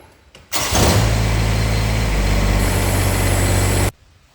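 A Kubota GR2120 mower engine starts and runs loud and close with a steady low drone for about three seconds, then cuts off abruptly.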